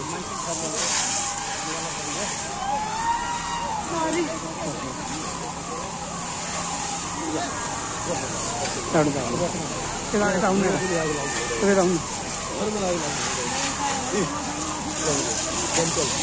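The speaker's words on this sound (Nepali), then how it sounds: "यहाँ यो घरमा लागिरहेको आगो निभाउनको लागि दमकलबाट पानीको होसले" A fire engine hose sprays water onto a burning village house as a forest fire spreads, a continuous hiss of rushing water beneath almost constant nearby talking.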